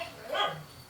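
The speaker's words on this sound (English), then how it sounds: "The dog's greeting him, so sorry about the noise." A dog gives a single short, faint bark as someone comes home, distant and brief against quiet room noise.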